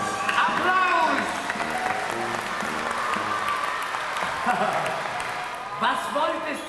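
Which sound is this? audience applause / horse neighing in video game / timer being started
audience applause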